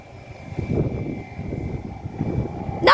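Airplane engines rumble at an airport during takeoff, a steady moderate roar building slightly toward the end, with no talking.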